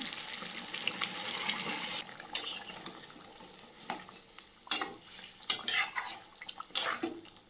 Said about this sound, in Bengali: এই পর্যায়ে গরম জলটা দিয়ে দেবো মাংসের মধ্যে